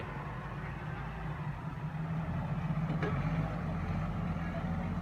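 A car reverses up onto a steep railway track crossing, its engine giving a continuous low rumbling idle at moderate distance, with faint voices in the background.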